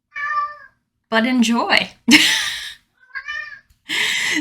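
House cat meowing loudly indoors, several drawn-out meows with someone talking between them.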